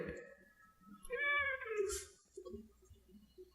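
A house cat meows in a long rising and falling cry, close and fairly clear over a quiet room, followed by a few softer murmurs.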